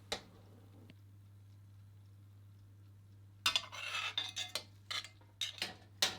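A spoon scrapes and clinks in a roasting pan, ladling pan juices over a garlic-studded pork shoulder loin; a quiet stretch gives way to a burst of loud, close metallic scrapes and taps.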